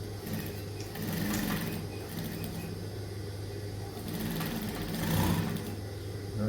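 Sewing machine stitching a trouser pocket, a steady close mechanical hum and rattle that runs throughout with slight swells in speed, no voices.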